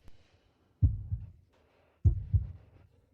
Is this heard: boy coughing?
no